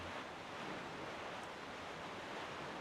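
Ocean waves wash steadily around a boat sailing toward a private cabana in a video game, a soft continuous broadband rush with a windy quality and no talking.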